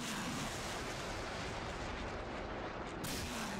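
Dense, heavy roar of artillery rounds launching in the DCS combat simulator, a loud continuous boom-and-rush texture across the whole stretch with no voices.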